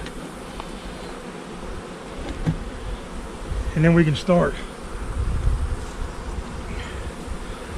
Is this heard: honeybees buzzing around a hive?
yes